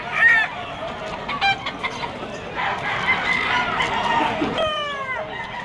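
A yellow-legged Sweater gamefowl stag clucks and crows at a Malabon pet market, several sharp calls and a long crow near the end rising over a busy crowd murmur with people talking.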